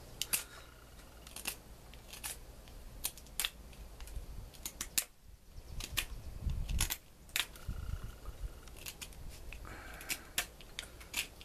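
Small blade of a UST survival card snipping through material in a run of sharp, quiet clicks and cuts, irregular and close, with a short pause midway and no talk.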